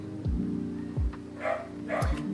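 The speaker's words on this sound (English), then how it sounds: "while we have dogs fighting outside" Dogs barking and fighting outdoors: three deep barks at a steady pace, with yips and whimpers in between, heard at a moderate distance.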